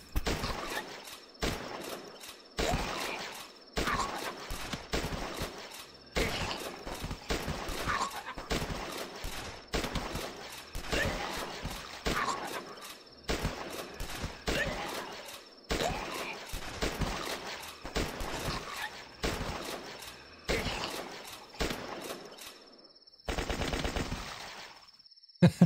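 Rapid bursts of gunfire from an M4 and other guns shooting zombies in the flash game The Last Stand, repeated volleys in steady clusters across the whole stretch with brief gaps, loud and close, with no talk.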